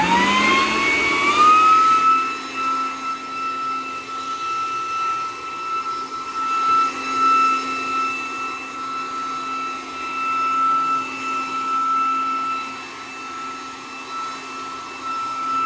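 Craftsman CMEBL700 leaf blower vacuum and mulcher spinning up with a rising whine, then holding a loud, steady motor drone with a high tonal fan whistle, close by and with no talking.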